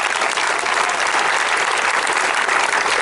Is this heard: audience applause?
yes